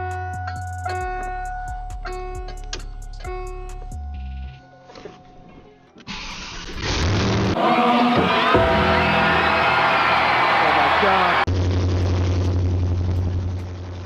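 A Chevrolet Camaro V8 running on open headers, fitted with a T56 transmission, fires up after a few quiet seconds of tonal sounds and settles into a loud, dense, roaring idle that fills the rest of the clip.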